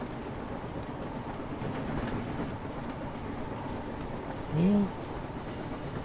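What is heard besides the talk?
train running in the video game Train Sim World, Wonders of Sodor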